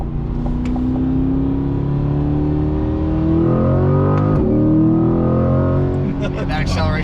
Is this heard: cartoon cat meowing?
no